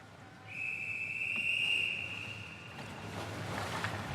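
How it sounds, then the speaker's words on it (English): A long, steady, high referee's whistle at the London 2012 Paralympic swimming pool signals swimmers to enter the water, ringing clearly for over a second above the continuous hum of the crowded indoor arena. "The whistle goes to signal the men may enter the water."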